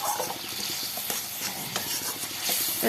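Kashmiri chilli masala fries in oil for fish curry, a quiet close sizzle and hiss with scraping as a spatula keeps stirring the pan.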